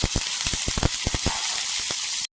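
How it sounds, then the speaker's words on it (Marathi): Plenty of garlic fries in hot oil while browning to a golden colour, giving a steady close sizzle dotted with sharp crackling pops, before cutting off abruptly into silence at the end. "लसूण छान असा गोल्डन कलर करून घ्यायचा. छान अशी तेलावर परतून घ्यायची."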